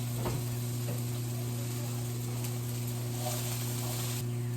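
Peppers, scallions and beans sizzle in a frying pan for an egg burrito, a steady close hiss with a few faint stirring sounds over a constant low electrical hum.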